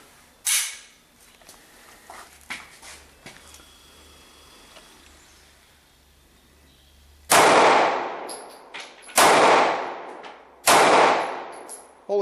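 Three loud, sharp Kahr CW9 9mm pistol shots fired at a target at a shooting range, evenly spaced with ringing decays, after a quieter stretch holding one fainter earlier shot and soft handling noises.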